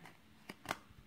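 Playing cards slid off the top of a deck during a card trick: two quick, papery flicks about a fifth of a second apart, soft and close, in a quiet room with no talking.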